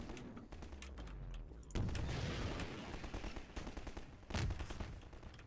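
Rapid gunfire from Half-Life 2 gameplay, several dense bursts of shots up close, with loud heavy blasts around the two- and four-second marks.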